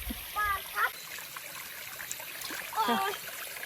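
Water flows at Pang Sida waterfall in Sa Kaeo, Thailand, a faint, steady rushing wash in the background, with brief bird-like calls and distant voices rising over it now and then.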